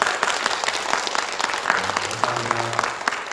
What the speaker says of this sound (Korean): 우리 반가운 마음, 반가워하는 마음, 환영하는 마음으로 박수 한번 해주셨습니다